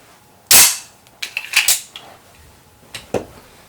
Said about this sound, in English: I'm going to push up on the slide lock slide release here with my right thumb